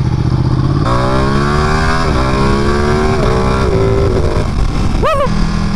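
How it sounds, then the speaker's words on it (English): Ducati Panigale 959 sport bike accelerating hard outdoors, its engine note climbing loudly through several quick-shifter upshifts with brief dips between gears, then a sharp rev burst near the end. "the Panigale 959 does not sound like a 250, even though we're outside"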